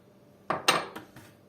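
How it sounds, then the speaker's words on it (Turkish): A spoon knocks and scrapes several times inside a pot of milk, sugar and flour, making a short run of close clinks and scrapes. "Ocağa almadan önce şöyle bir güzel karıştırıyorum."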